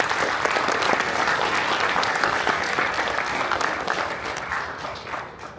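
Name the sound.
audience applause at a company townhall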